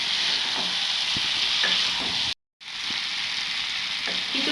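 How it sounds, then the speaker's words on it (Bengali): Potatoes sizzle steadily in hot oil with spices in a pan for aloo dum, a dense frying hiss broken by a brief silent gap, with occasional soft stirring knocks and no talk. "কিছুক্ষণ এইভাবে আমরা আলুটাকে মশলার সাথে কষে নেব।"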